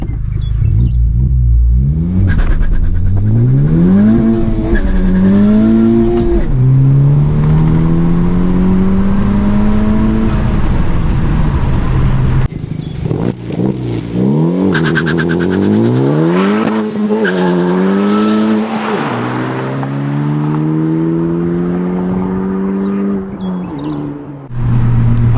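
2021 Honda Civic Type R with MAP exhaust accelerating hard through the gears with traction control off, loud rising engine sweeps and upshifts while the tires squeal and lose grip, buffeted by wind noise.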